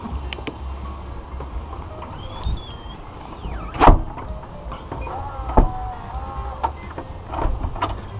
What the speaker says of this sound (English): Love the new electronic doors.